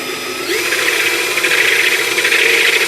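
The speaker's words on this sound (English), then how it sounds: "And they're using a step drill to drill the hole." A step drill bores a hole while a Donaldson Filter Minder is being installed. It sounds like a loud, steady mechanical whine that rises in pitch after about half a second and grinds on continuously, with no voices.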